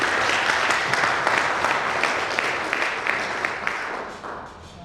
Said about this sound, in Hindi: अमित जी के लिए एक बार जोरदार ताली।